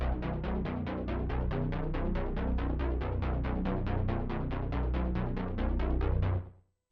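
Sub bass synth run through a channel strip, L1 limiter and doubler, with a dense, steady throbbing pulse repeating rapidly for about six seconds before cutting off abruptly; no voices.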